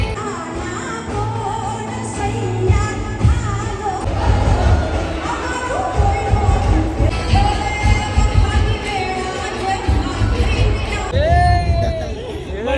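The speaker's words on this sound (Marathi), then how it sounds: "आम्ही आतमध्ये आलो आणि बघतो तर एवढी गर्दी आहे" A packed crowd at a garba celebration fills the air with a loud, continuous babble of voices over thumping music, with someone talking up close throughout.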